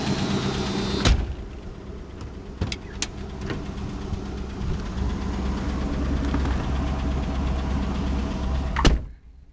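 A 1973 Ford Mustang convertible runs with a steady low engine drone that holds throughout, with a few sharp knocks and clunks near the start and a louder thump near the end before the sound cuts off.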